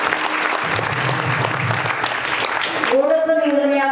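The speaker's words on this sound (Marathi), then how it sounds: "आपल्या गावातील सर्व तरुण बांधवांसाठी एका जोरात टाळ्या वाजवा" Villagers at a kirtan applaud loudly and steadily for about three seconds, then the clapping gives way to a voice over a loudspeaker.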